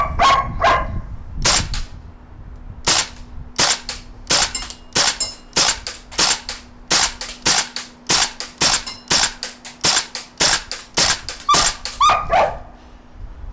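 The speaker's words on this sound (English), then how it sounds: "It's really hard to shoot these. I'm still learning with the airsoft videos." Tokyo Marui AKM gas blowback airsoft rifle shot at targets about 30 feet away outdoors, about two dozen sharp, loud cracks fired one at a time in a fairly steady rhythm, with a dog barking at the start and end.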